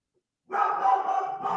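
A pet dog barks indoors, a burst of close, loud yaps and woofs that starts abruptly after a moment of silence and carries on in quick succession.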